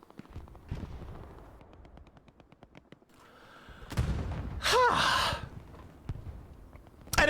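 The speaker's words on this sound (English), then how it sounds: "More explosions." Explosions and gunfire ring out in a tournament match of a combat video game: a rapid run of shots, then heavy booming blasts with a rising whine, loud and close, with no talk.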